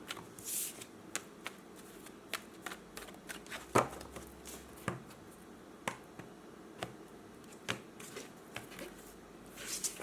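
Oracle cards being shuffled by hand give soft papery riffles and sharp snaps at irregular intervals, quiet and close, with no talking.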